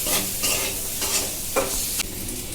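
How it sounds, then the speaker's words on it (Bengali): Potatoes sizzle in hot oil in a pan while a utensil stirs them, the loud frying crackle interrupted by several distinct scraping strokes close by, no voices. "দিয়ে আলুটাকে একটু ভাজা ভাজা করব"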